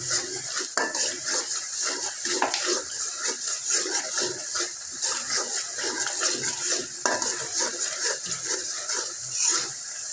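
Beef tripe being stirred with chili powder in a pan, a steady run of scraping and clinking utensil strokes against the metal with a faint sizzle underneath, close and fairly loud throughout.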